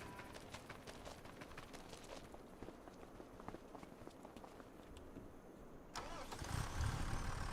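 A John Deere tractor engine in Farming Simulator 25 cranks and catches, then settles into a rising rumble. Footstep-like clicks come first, and no one talks.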